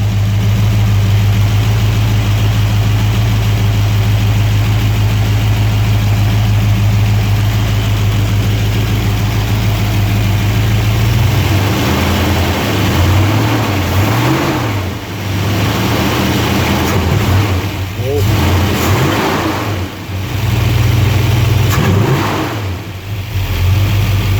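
A car engine with a rebuilt Edelbrock 1405 carburetor, #9266 spacer and Mopar orange ECU, not yet fully warmed up, idles loud and close with a steady low rumble, then is revved in several short blips that rise and fall.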